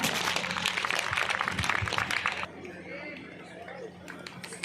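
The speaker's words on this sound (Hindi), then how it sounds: "Please तालियां बजाइए आप लोग." Audience clapping at a university grappling games opening ceremony in Bhopal, a steady dense patter for about two and a half seconds that then drops off to a softer background with a voice speaking.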